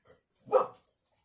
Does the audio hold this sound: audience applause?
no